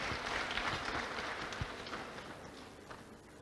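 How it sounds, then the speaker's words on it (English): Audience applause at a pledge-taking ceremony for successful candidates, a dense steady patter of many hands clapping in a hall, holding fairly even and then thinning slightly toward the end. "I think he deserves a louder round of applause to us."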